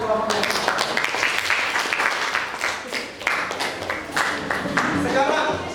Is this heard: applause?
yes